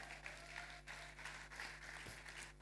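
Audience applause and clapping at a live event, steady and continuous throughout as a couple walks forward, moderately distant with a constant low hum beneath.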